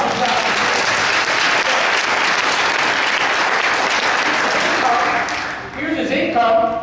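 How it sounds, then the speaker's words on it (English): Audience applause at an investment training event, loud and dense, sustained for about five seconds before thinning out, with voices rising over the tail. "give her a round of applause"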